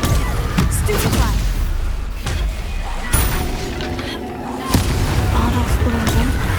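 Spell combat in Hogwarts Legacy brings a string of booming blasts and sharp cracks over a busy action backdrop, several loud hits spaced a second or two apart, with shouting voices mixed in.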